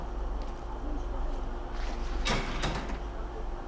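A door handle yanked hard in the Outlast horror game, a sharp loud rattle and clunk over a low droning ambience, with a brief second jolt right after.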